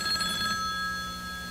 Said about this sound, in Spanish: cuando el teléfono volvió a sonar.